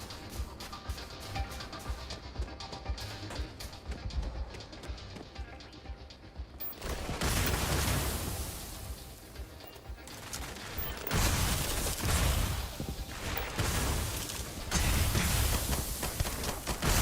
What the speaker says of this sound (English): Yo, what's with the mortar fire?